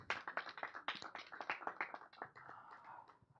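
Applause and clapping from an audience at a film awards congratulation event for the movie Summer Holidays, a dense run of hand claps lasting throughout and slowly thinning toward the end.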